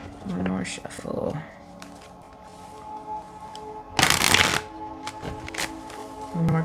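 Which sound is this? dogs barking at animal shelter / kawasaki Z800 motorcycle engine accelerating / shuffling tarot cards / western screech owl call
shuffling tarot cards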